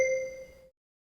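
A single bright electronic bell chime in a Duolingo French travel audio lesson rings out clearly and fades within under a second, followed by silence.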